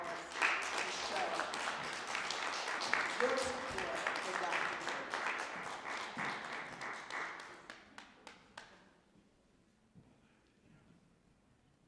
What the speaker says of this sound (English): I want you all to give her a round of applause